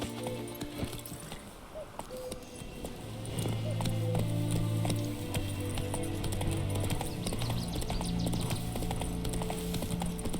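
Horse hooves clip-clopping steadily as Geralt rides his horse Roach back toward town in The Witcher 3 Next Gen, a regular trotting rhythm close by over ambient game music and environment sound.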